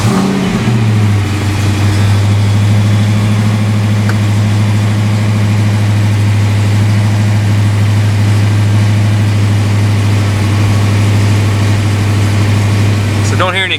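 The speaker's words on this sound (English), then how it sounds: "let's fire it up and see if it works." A 1986 Ford Mustang GT, sitting on jack stands, cranks and fires, then settles into a loud, steady idle with a deep, even drone that runs unbroken and close.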